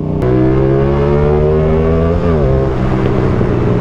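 A loud 2024 CF Moto 450SR-S sport motorcycle engine with an SC Project CR-T aftermarket exhaust drones steadily with strong low harmonics, then dips and climbs in pitch as the throttle shifts, with no talking.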